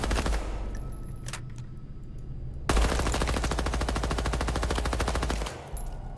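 Loud rapid automatic gunfire in the Midnight Society video game from Dr Disrespect: a short opening burst, a pause, then a long fast sustained volley that stops abruptly.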